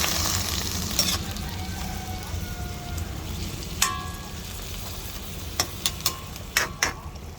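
Chicken sizzles and bubbles in a pan of simmering sweet and sour sauce, a steady close crackle with a few sharp clicks of a utensil against the pan.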